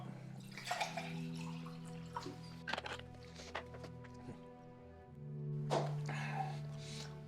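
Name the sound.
water being poured to top up a glass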